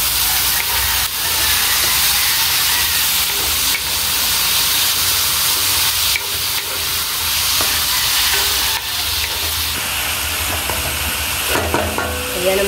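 Ampalaya (bitter gourd) being stirred in a hot pan, giving a steady, close sizzle and hiss that runs unbroken throughout, with occasional clinks and scrapes of a utensil.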